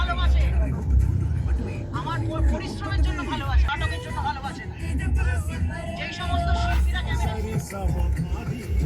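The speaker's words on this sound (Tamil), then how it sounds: "பின்னாடி பேக் சைட்லேயும் பயங்கரமான டிராஃபிக்." Heavy road traffic on a busy street beneath an overhead railway line, a steady rumble of cars and buses passing close by under continuous nearby conversation.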